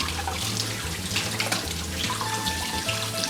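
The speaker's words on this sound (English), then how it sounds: "I also taught you how to wash your hands" Hands being washed under a running tap fill a sink with a steady close rush of water, with faint splashes and a low hum underneath and no talking.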